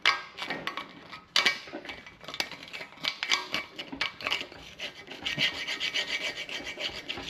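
Rust and corrosion are scraped and rasped out of the water passages of a Ford Windsor engine block, a close, gritty scratching in uneven bursts with no talk.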